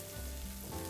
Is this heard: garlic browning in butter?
yes